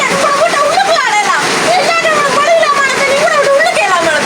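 Rainwater pours into a house through an opening in the roof during a sudden downpour, a loud, close and steady splashing stream with a voice talking over it.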